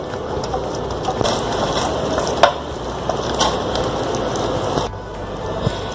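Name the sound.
stirring spices into chicken mayonnaise sandwich filling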